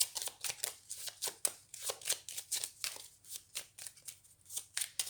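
Tarot cards are shuffled and laid down by hand in a quick, regular run of crisp riffling flicks. The close, distinct slaps repeat without pause and no voice is heard.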